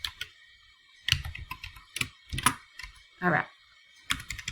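Typing on a computer keyboard comes in short bursts of clicking keys between pauses, close and clear, while a voice speaks briefly in the middle.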